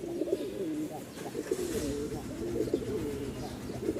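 Rajshahi Giribaz pigeons coo close by in repeated soft, throaty rolling phrases, several overlapping calls at a moderate level, with faint background noise between them.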